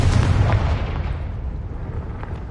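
A Confringo blasting spell detonates in Hogwarts Legacy, a loud booming burst that rumbles and fades out over a couple of seconds.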